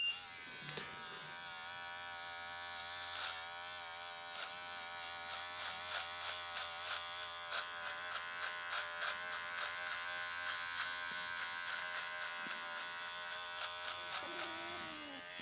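An electric beard trimmer buzzes steadily close up as it cuts through beard hair, its constant motor whine broken by rhythmic rasping pulses as the blade passes over the face repeatedly.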